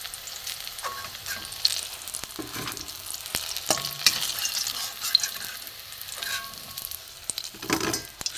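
Prawn shell fritters frying in hot oil give a steady, moderate sizzle, with occasional scrapes and clinks of a spoon stirring and lifting them out, and no talking.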